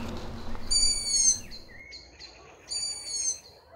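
A long-eared owl fledgling gives two high, drawn-out squeaky calls with harmonic overtones, separated by a short gap, fairly close against a quiet outdoor background.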